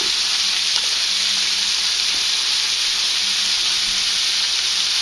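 A crappie fillet blackens in a hot pan, giving a loud, dense, unbroken sizzle and hiss that holds steady from start to finish, with no voices.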